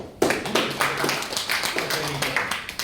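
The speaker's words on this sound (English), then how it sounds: "Another round of applause for him." A small audience claps for a student during a class presentation, a sparse run of individual hand claps with distinct, rhythmic strikes, fairly close.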